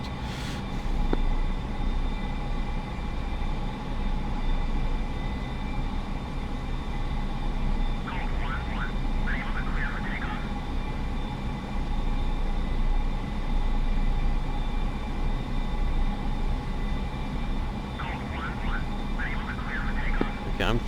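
A steady aircraft engine drones throughout in the DCS flight simulator, a continuous tonal hum with a whining edge, with brief radio chatter over it.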